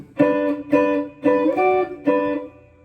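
Electric guitar picks out the opening bar of a song's synth intro, four ringing chord hits at an even pace, the last one left to fade, close and clear.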